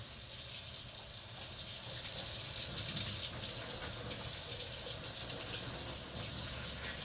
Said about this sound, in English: I'll go ahead and wash my hands now